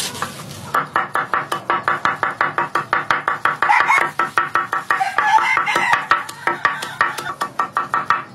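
Rapid rhythmic chopping of water spinach and squash leaves on a board, dozens of sharp knife strikes in steady succession, close and loud, with no talking.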